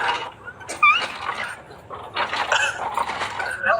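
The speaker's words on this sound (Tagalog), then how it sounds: "minsan yung mga aso tumatawag sa akin" Several dogs in a Filipino neighborhood yip and whimper in short bursts, near and moderately loud, with a brief high whine and scattered barks through the clip.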